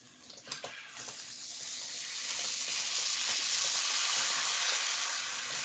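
Passata poured into a hot pan hisses and sizzles, starting with a few spattering pops and building into a steady, fairly quiet broadband crackle.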